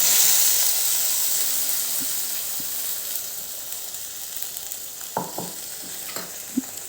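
Cashew garlic paste sizzles and fries with softened tomatoes in a pan, a steady hiss fading slightly over time, broken by a few sharp stirring clinks and scrapes near the end.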